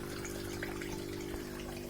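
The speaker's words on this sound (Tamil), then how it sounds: "இப்போ தண்ணி ஃபாஸ்ட்டாக வெளியே போகணுன்றதுக்காக நான் அதை திருப்பி விடுறேன் வெளியே." Water gushes and trickles steadily out of a pipe draining a koi fish tank, a continuous faint liquid rush over a low motor hum.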